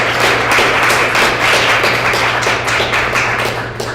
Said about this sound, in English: So applause for the panel.